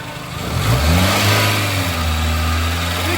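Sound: Dacia Renault car engine revving

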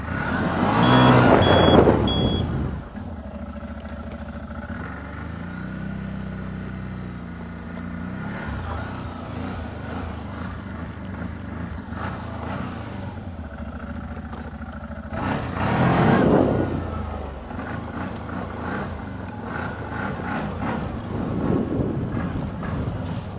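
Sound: CFMOTO ATV engine revving against the rev limiter

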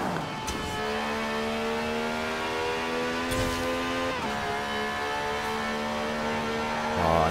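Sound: Aston Martin Vulcan turbo whistle and engine revving, Forza Horizon 4 video game

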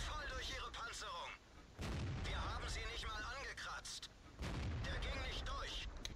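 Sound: tank cannon firing in the video game World of Tanks

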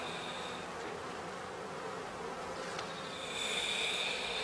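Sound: honey bees buzzing at a skep hive

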